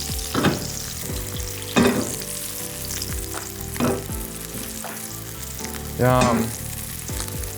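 Fish fillet frying in a hot pan, a steady sizzle running throughout with occasional louder bursts as the pieces are moved, and a brief voice murmuring once.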